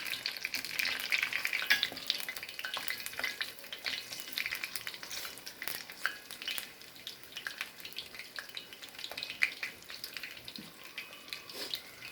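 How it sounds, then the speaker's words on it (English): Masala vada, spiced lentil patties, deep frying in hot oil with a continuous dense crackling sizzle and frequent small pops, steady and close for the whole stretch. "And let it fry."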